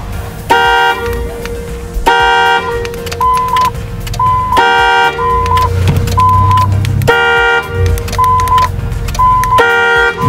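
A car alarm blares loudly and close by, cycling through repeated harsh horn-like blasts alternating with a stepping electronic siren tone, the pattern repeating about every two and a half seconds without pause.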